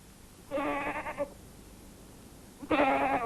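Goats bleat twice, with a wavering cry, a short gap, then a second bleat, moderately close and clear against a quiet outdoor background.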